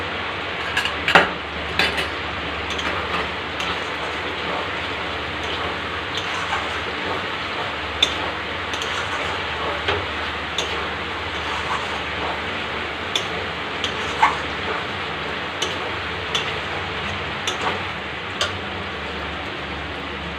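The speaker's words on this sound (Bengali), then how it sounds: "আলু মশলার সঙ্গে কষিয়ে নেব দিয়ে নেব চারটে রসুন" Potatoes are stir-fried with spices and garlic cloves in a pan for a chicken curry. A steady sizzle and hiss runs throughout, with scattered light clinks and scrapes of a spatula against the pan.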